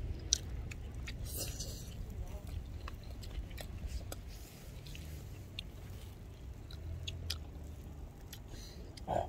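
Grilled anchovies being chewed close up while eating outdoors at night, with soft repeated crunching and wet mastication sounds in an irregular rhythm over steady low background noise.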